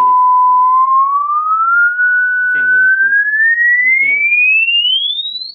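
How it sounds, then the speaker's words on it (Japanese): Test tone through a JBL 4344 compression driver after repair, a pure whistle-like tone that glides steadily upward in pitch. A voice speaks briefly over it in a few short phrases. "1万ヘルツですね"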